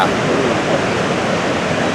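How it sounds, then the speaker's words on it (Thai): Niagara Falls pouring continuously, heard as a dense, steady broadband roar of rushing water with no breaks, loud and enveloping as from a nearby viewpoint. "อีกมุมหนึ่งของน้ำตกไนแองกาล่า"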